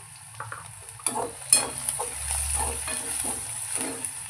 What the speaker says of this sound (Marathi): लसूण जरासं दोन मिनटं भाजून घेऊया